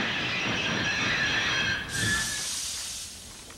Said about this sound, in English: In the countryside, Thomas's brakes sound like this.